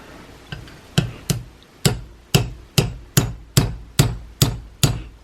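A hammer strikes metal about ten times in a steady rhythm, punching out a pin from a Remington 700 rifle receiver, each blow sharp and ringing, close by, with no talking.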